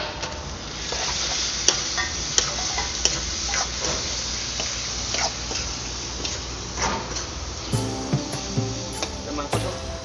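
Meat sizzling and frying in a pan for homemade biryani: a steady, close hiss with scattered ticks and a few clinks of utensils against the pan.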